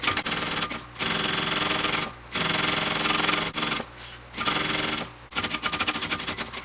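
Sewing machine basting a backpack seam with an eighth-inch allowance, a loud continuous mechanical whir that runs in bursts of a second or so, broken by short pauses between runs, with no one speaking.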